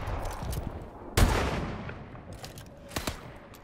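Suppressive gunfire in Call of Duty: Advanced Warfare, a sharp loud burst of rapid shots that decays into rumbling, followed by another cluster of gunshots a couple of seconds later.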